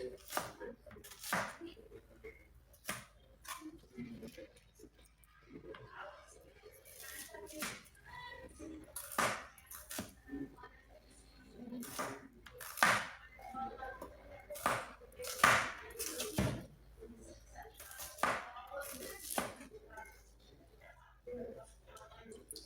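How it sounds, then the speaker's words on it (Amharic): Knife chopping onions into thick pieces on a board, three onions in all, with repeated sharp close taps in an uneven rhythm while someone speaks softly throughout. "እንደዚህ አድርገን እንከትፈዋለን።"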